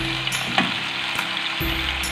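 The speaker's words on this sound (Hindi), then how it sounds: "लहसुन फ्राई हो गया है, अब हम इसमें चिकन डाल देंगे।" Oil sizzles and crackles steadily in a pan of frying garlic, with a soft thud and a burst of louder frying as chicken goes in.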